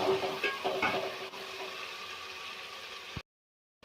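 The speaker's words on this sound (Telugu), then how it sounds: "తరిగిన టమోటా ముక్కలు, మనం వీటిని ఎంత ఫ్రై చేస్తే అంత టేస్ట్ వస్తాయి" Chopped tomato pieces fry in a pan for a kushka rice dish, a faint, soft sizzle with light stirring that stops abruptly just before the end.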